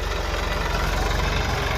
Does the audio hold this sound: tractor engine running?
yes